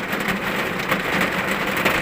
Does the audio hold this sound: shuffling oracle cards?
no